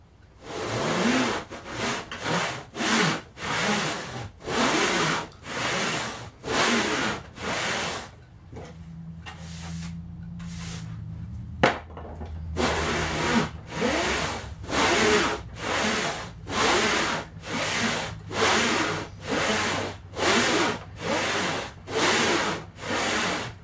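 Hand saw cutting wood for a tapered sliding dovetail joint on a gaming table, with steady rhythmic back-and-forth strokes, close and clear, broken by a short pause midway before the regular strokes resume.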